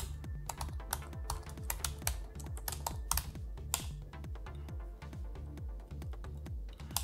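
Rapid, uneven clicking of keys typed on a computer keyboard, steady and close, continuing without pause and with no voices.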